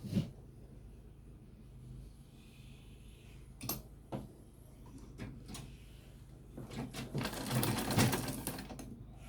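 A domestic sewing machine runs in short bursts of stitching while sewing a collar onto a shirt, with clicks and rattles between runs and a longer steady stretch near the end.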